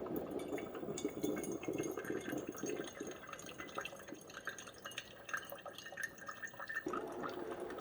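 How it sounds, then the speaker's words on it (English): A Ninja CF082 Coffee Bar machine brewing, with a soft, continuous trickle and drip of coffee and hot water, faint and close, heard on its own. "I've got the drip to open, and it starts brewing"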